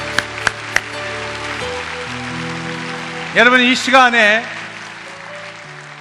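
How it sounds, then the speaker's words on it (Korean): Applause from a church congregation at a healing prayer service, a steady wash of clapping blended with sustained keyboard music, while someone speaks over it near the middle. "우리 하나님께 감사와 영광의 박수 올려드리기를 원합니다."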